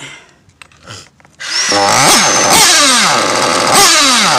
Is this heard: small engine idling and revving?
yes